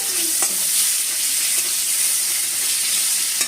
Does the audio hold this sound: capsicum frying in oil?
yes